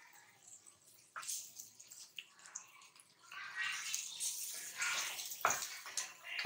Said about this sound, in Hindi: थोड़ा सा हम इसमें पानी शामिल करेंगे ताकि ये टमाटर गल जाए।